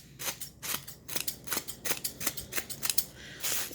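Scissors trimming gift tissue paper flowers, rapid crisp snips in an uneven rhythm of many quick cuts, close and alone.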